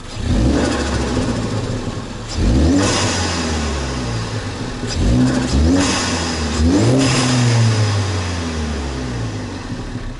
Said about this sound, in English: Still has the induction sound. Let's see if we can get on the accelerator.